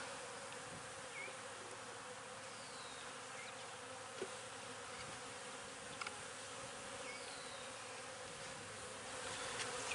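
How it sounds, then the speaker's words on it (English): Steady, dense buzzing of many honeybees in a hive close by, a continuous drone with occasional individual bees passing nearer. "There's a good amount of bees in here too"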